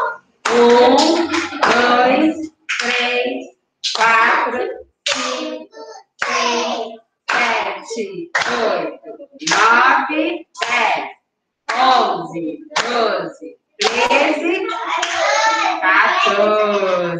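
A preschool class claps hands together while counting aloud in Portuguese up to fourteen, in a run of roughly fourteen evenly spaced beats, each clap merged with a chorus of young voices, close and fairly loud.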